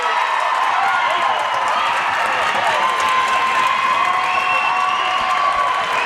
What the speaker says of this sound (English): Cape Elizabeth crowd enjoying that